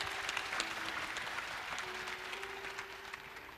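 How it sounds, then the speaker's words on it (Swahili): Applause from the congregation at a bishop's consecration ceremony, steady clapping heard at a modest distance, continuing evenly throughout. "Mpigie makofi."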